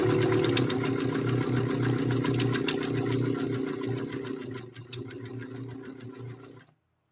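An Elna Lotus SP sewing machine stitching through two layers of fabric, a loud, steady, close mechanical whir with rapid needle clatter that eases slightly near the end before stopping abruptly.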